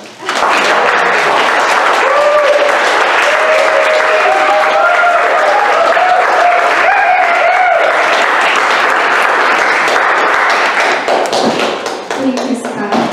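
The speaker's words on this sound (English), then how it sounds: "Keep the clapping going." Audience applause at a friendship talk as a guest walks up to speak: loud, steady clapping from a room full of people, sustained for most of the stretch, with voices mixed in.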